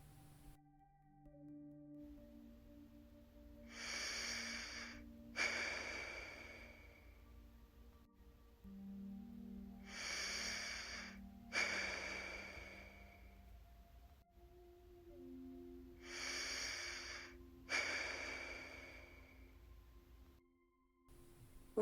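Deep, slow breaths in a calm guided-relaxation setting: three long inhale-exhale cycles, each a soft airy swell lasting several seconds, close and gentle over a low, steady ambient drone with no talking.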